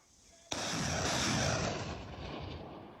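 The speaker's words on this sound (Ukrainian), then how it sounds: "Бійці стріляють короткими серіями." A single loud artillery blast bursts out, followed by a long rumbling roar that slowly fades, heard outdoors at moderate distance, from soldiers firing short series in eastern Ukraine near Bakhmut.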